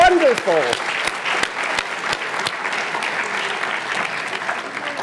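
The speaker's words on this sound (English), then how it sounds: "Can we have a round of applause for your" An audience at a speech night ceremony claps enthusiastically for the instructors, steady applause filling the room from the start, with a voice briefly heard over the opening moments.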